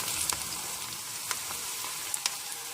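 Onions frying in oil in a pan, a steady close crackling sizzle with a few sharper pops and stirring clicks, no talk.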